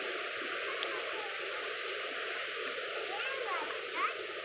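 A flooded river runs high near a bridge, a steady, dense rush of water with occasional splashes that keeps the same level throughout.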